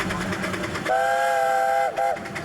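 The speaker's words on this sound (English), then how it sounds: "The train passes more flower beds, then turns south again" A train at the National Garden Festival 1990 rumbles past with a rhythmic clatter, then a loud two-tone whistle sounds for about a second, followed by a brief second blast, with no talking.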